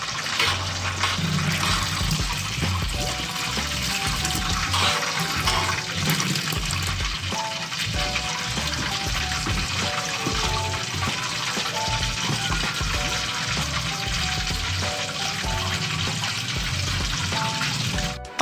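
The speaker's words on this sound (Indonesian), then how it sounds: "ini aku bilas berulang kali. Ini kurang lebih aku bilas 3-4 kali." Squid pieces rinsed under running water for crispy fried calamari, a loud, steady gush with splashing that continues throughout, with music playing underneath.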